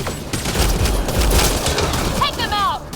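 Video game gunfire rings out as a dense, continuous volley of loud shots and battle noise, ending with a few whistling, chirp-like tones near the close.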